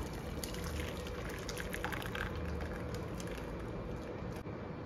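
Boiled ripe mango and green mango are drained through a strainer, giving a steady close pour and trickle of water with faint rustling over a low background hum.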